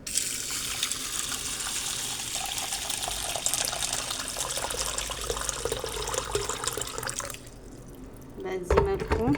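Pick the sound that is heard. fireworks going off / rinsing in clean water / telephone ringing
rinsing in clean water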